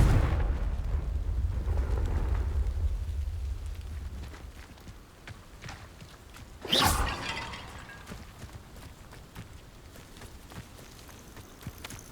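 Confringo spell blasting a vase in Hogwarts Legacy, a sharp loud crash with shattering debris after a stretch of low rumbling ambience, then a quieter tail of settling noise.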